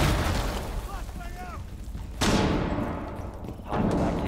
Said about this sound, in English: I'm just fucking throwing a flashbang in there